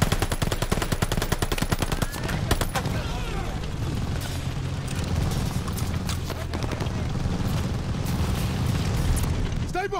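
Machine gun fire rattles in rapid bursts through a Call of Duty: Vanguard battle, mixed with booming explosions and shouted voices, dense and loud throughout.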